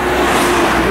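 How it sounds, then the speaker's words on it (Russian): Car driving past on a road, a steady broadband rush of tyre and engine noise, close and fairly loud throughout the short moment. "Подождем, пока проедет машина."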